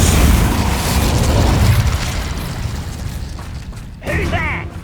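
Incendio fire spell cast in the Hogwarts Legacy video game, heard as a loud whooshing, roaring burst of flame that slowly fades, followed by a short voice at the end.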